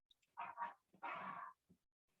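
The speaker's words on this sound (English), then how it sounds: "This dog, man." A dog barks indoors during a group discussion, giving a few short, muffled barks in quick succession against an otherwise quiet room.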